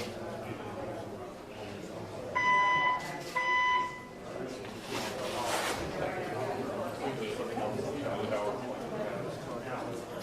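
A building fire alarm sounds during a press conference with two short bursts of bright electronic beeping over a noisy room with murmuring people.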